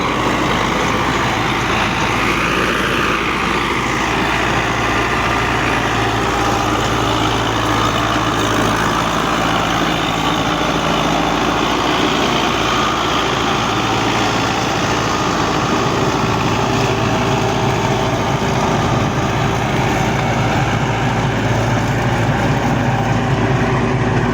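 A 1995 Belarus MTZ 50 tractor works a 60-blade rotavator, its diesel engine droning loud and steady for the whole stretch with a constant low rumble and no talking.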